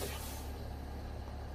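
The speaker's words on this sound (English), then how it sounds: "Right up here, I'm going to set the brake." Truck air brake being set in American Truck Simulator, a single sustained pneumatic hiss, fairly faint and steady, fading slightly at the start over low engine rumble.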